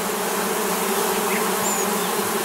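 Honey bees drone steadily around a beehive sheltered under a metal lid and awning, a continuous close buzzing that holds level throughout with no voices.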